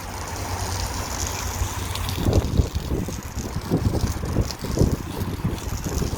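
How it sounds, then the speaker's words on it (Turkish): Gusting wind buffets the microphone outdoors on a seashore, rumbling low and rising in a few stronger bursts over steady rushing air. "Biraz da rüzgar çıktı."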